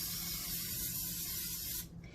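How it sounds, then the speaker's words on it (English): Cooking spray hisses from a can onto non-stick frying pans in a home kitchen, one steady close spray of about two seconds that cuts off abruptly. "I'm just spraying my frying pan, or my pans with these."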